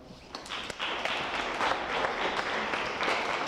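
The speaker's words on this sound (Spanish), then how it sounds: "Un fuerte aplauso" An audience in a lecture hall at a talk on the transit of Venus breaks into applause, dense overlapping clapping that builds and holds steady at moderate loudness.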